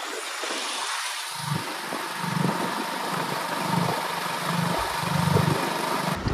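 A motorcycle rides along a highway, its steady engine hum pulsing under constant wind rush, heard from the rider's position with no talking.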